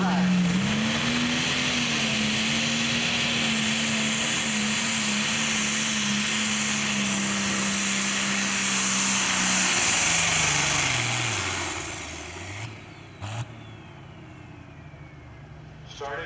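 A pro stock pulling tractor engine roars steadily and loud down the track at an NTPA pull in Wilmington, Ohio, its pitch holding high before dropping and fading near the end, with a few brief knocks after.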